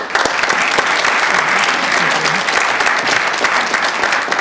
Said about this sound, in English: Please give a hand to Lieutenant Colonel Sheikh.